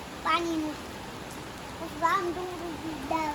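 Rain falls steadily onto an open rooftop terrace, a soft, even hiss running throughout beneath the intermittent voices of a child and an adult.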